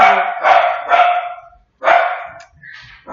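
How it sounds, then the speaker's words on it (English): Dogs barking indoors in a house: loud, close, repeated barks in short bursts with gaps between them, ending in a higher yip. "Something must be happening in my house. The dogs are going crazy."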